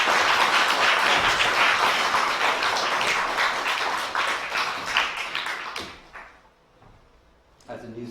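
An audience applauds Jerry MacNeice with dense, loud, sustained clapping that thins out and fades near the end, followed by a few isolated claps.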